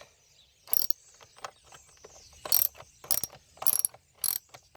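A ratchet fitted with a 10mm socket works bolts loose on a Ford Fiesta, giving several short bursts of rapid clicking spaced across the clip, close and clear over a quiet background with no talk.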